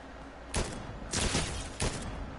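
Three bursts of video game gunfire aimed at the player, each a loud broadband crack trailing briefly off, spaced roughly half a second apart over a steady background rumble.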